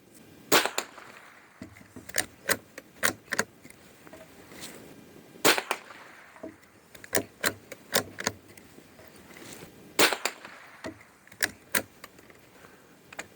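Sharp gunshots from a Norinco JW-15 .22 rifle at an outdoor range, a dozen or so loud, close cracks fired in irregular clusters with short pauses between them.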